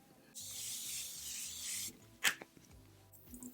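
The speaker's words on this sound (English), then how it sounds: "Let's do one more spray of setting spray." A long continuous hiss of makeup setting spray from an aerosol, lasting over a second, followed by a brief clatter and a few soft handling sounds.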